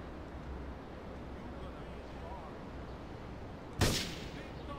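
A single sharp sniper rifle shot rings out in Grand Theft Auto 3, loud and close, breaking a quiet ambient background before a short decaying tail.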